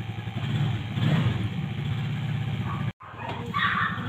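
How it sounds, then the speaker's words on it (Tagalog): A tricycle motorcycle engine runs close by with a steady, throbbing idle and a brief cutout near the end before the rumble resumes, with no talk. "Narinig mo yung tricycle, umaandar?"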